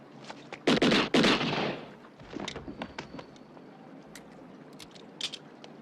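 Gunfire from the assassin scene in the film Miami Vice: a dense burst of loud shots up front, followed by scattered sharper cracks and clatter.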